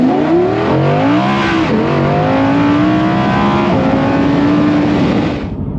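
Audi R8 V10 engine revving loud and close, pitch sweeping up through rising harmonics, dipping, then holding a steady high drone before cutting off near the end.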